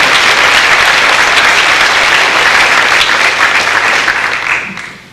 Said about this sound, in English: give these two fine young ladies a nice round of applause as co-editors